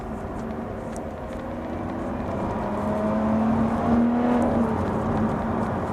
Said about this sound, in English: It is such a fantastic car to drive.